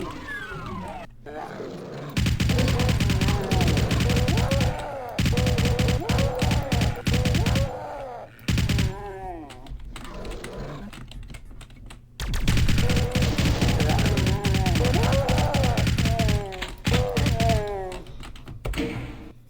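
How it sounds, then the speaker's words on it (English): Dual shotguns in the video game Doom fire in loud, repeated blasts, mixed with thuds and monster roars in two dense bursts of combat separated by quieter gaps. "Dual shotguns. Everything's better with two."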